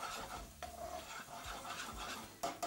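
Onion and garlic frying in a pan, a steady soft sizzle with scraping and stirring noises throughout, close by and without speech.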